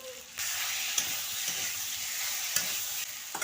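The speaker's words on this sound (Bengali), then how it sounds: "সেভাবে একটু দেখে দিতে হবে মশলাটা যাতে না পুড়ে যায় আঁচ কমিয়ে আস্তে আস্তে করে করতে হবে" Spice masala fries in a pan on low heat for a cauliflower and potato dish, a steady close sizzle with a few scraping stirs of a spatula, and no voices.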